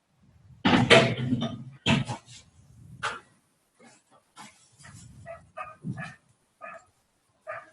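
A dog barks loudly several times nearby, then continues with softer yips and whimpering barks in an irregular rhythm.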